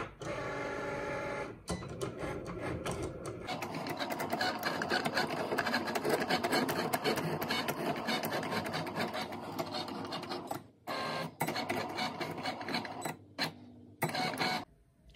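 A Cricut Explore Air 2 cutting machine runs a test cut with a whirring motor and rapid mechanical chatter, interrupted by brief pauses and shifts in pitch as the carriage moves, heard close with no talking.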